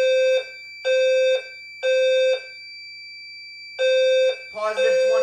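Fire alarm bells ring in three loud, steady bursts with short gaps during a fire alarm system test, then a fourth burst breaks into mixed ringing as the notification circuits are checked.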